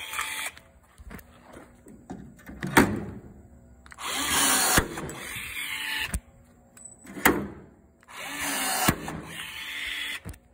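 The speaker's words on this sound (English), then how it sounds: "we're using the Milwaukee rivet tool. And yeah, this thing is a monster" Short mechanical bursts from a Milwaukee power rivet tool setting rivets in a rear panel of a 1987 Land Rover Defender 90, each pull a brief whirring crunch separated by pauses, close and moderately loud.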